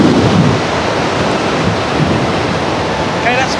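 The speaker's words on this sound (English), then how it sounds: "the wind speeds already up to 40 kilometers an hour" Strong wind of about 40 km/h at Hong Kong's ocean airport buffets the microphone in a continuous, loud, rushing roar, with a brief voice near the end.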